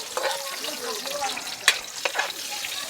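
Onion frying in a pan after garlic, a steady close sizzle with soft crackles and a few stirring clinks, moderate level, no talk over it.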